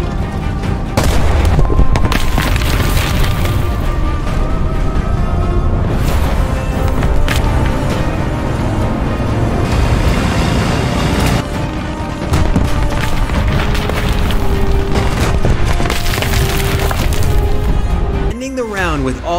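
Heavy bombs dropped from a Lancaster bomber in War Thunder explode in loud, booming blasts over continuous roaring battle noise, with gunfire and crackling debris throughout the dense, sustained mix.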